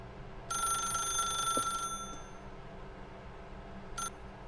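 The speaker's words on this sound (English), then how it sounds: "If you can truly place your faith in another, then pick up the phone." A telephone rings in The Stanley Parable, a bright electronic trill lasting over a second, then a second brief ring after a pause, against a quiet room hum.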